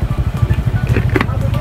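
A motorcycle engine runs with a fast, pulsing thump close by on a trail near Situbo Falls in Tampilisan, Zamboanga del Norte, and a voice is briefly heard over it.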